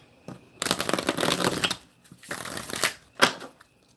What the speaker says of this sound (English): Get these cards shuffled for you.